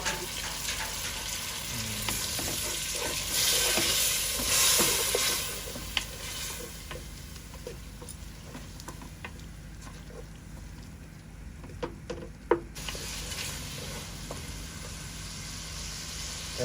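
Prawns sautéing in a pan while being cooked down for a Bengali curry: a steady close sizzle and frying hiss with occasional stirring scrapes and clicks, running alone throughout.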